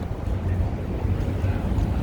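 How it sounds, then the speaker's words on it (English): Strong wind gusting across the Michigan Avenue Bridge in downtown Chicago, buffeting the microphone with a steady low roar and no speech. "It's always windy on this bridge for some reason."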